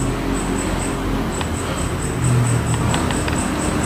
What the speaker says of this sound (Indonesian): Suara jangkrik sudah terdengar.